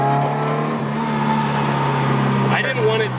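A 700hp Honda Civic engine revs loud and close with a droning exhaust note through long manifold runners, the steady roar rising near the end while people talk over it.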